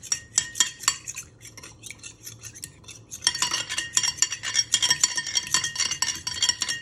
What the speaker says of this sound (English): you want to get a good whisk with your fork